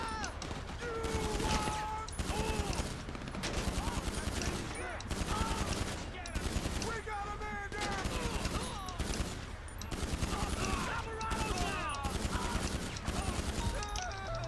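Rapid automatic gunfire rattles in a shooter video game, long bursts of tightly spaced shots repeating in a fast, even rhythm, interrupted by a few brief pauses, with a voice talking faintly underneath.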